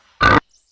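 A cartoon pig, just kicked by a camel, gives a single short, loud grunt that ends quickly, followed by near silence.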